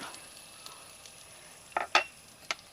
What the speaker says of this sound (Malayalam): നമുക്കിനി ഒരു പതിനഞ്ചോളം ചെറിയ ഉള്ളി ചെറുതായിട്ട് അരിഞ്ഞത് ഇട്ട് കൊടുക്കാം അതിൻ്റെ കൂടെ നമുക്കൊരു അഞ്ച് ചീനമുളകും കൂടി ഇട്ട് കൊടുക്കാം